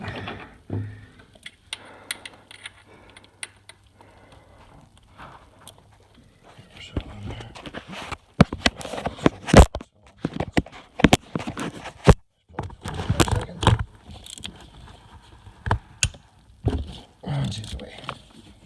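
A ratchet works a 10 mm bolt, giving bursts of rapid, close clicking and metallic ticks that grow busier and louder partway through, with quieter handling noise before.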